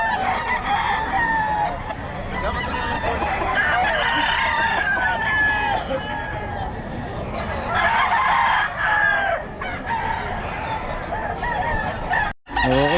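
Roosters crow and chickens cluck at a poultry market in Bocaue, with overlapping calls from many birds close by and steady crowd hubbub underneath, no clear talk.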